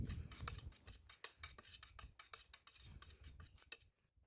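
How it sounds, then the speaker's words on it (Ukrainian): Black primer being stirred with added thinner: quiet, rapid scraping and clinking of a stirring tool against a can, repeating in a steady rhythm before stopping near the end. "я її трошки помішую і додаю розчинника"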